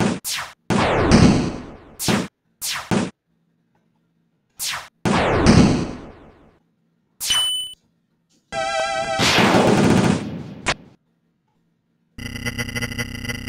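Shots firing in the Spamton Neo boss fight from Deltarune, remade in Scratch: a string of sharp, separate game blasts and clangs in uneven bursts, with short quiet gaps and a harsh buzzing stretch toward the end.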